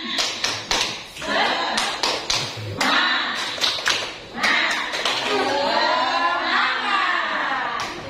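Children and adults at an elementary school orientation play the tepuk semangat clapping game, with quick patterned bursts of claps followed by group chanting and talk.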